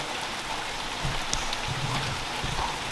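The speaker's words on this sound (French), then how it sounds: "vu qu'il y a de la pluie c'est encore plus joli parce que ça glisse sur la carrosserie" Steady rain falls on a car's bodywork, a dense, even patter of drops throughout with a few slightly louder taps, heard alone with no voices.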